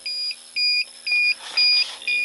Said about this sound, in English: it's beeping because I have the alarm set to go off when the smoker is less than 180